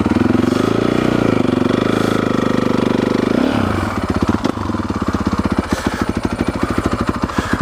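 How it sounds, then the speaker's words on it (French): A Honda CRF 450 dirt bike with a stock exhaust runs close by, first a loud steady roar, then it drops into a rough, lumpy, thumping idle with sharp pulses, with no talking. "J'espère que vous m'entendez bien parce qu'elle fait un bruit mon pot"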